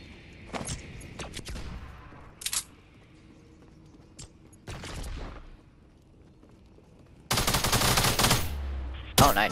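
Gunfire in the video game Fortnite comes as scattered short bursts and single cracks, with a long rapid automatic volley near the end; the shots are fairly close and sharp over quiet game ambience.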